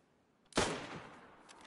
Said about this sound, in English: Did you hear that shot?